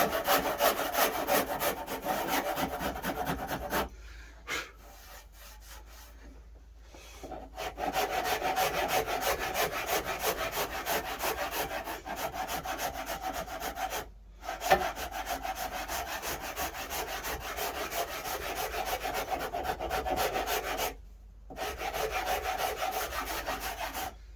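Hand rasping and filing on a mahogany neck-through guitar neck during carving, close and steady, in long rhythmic rubbing strokes broken by a few short pauses.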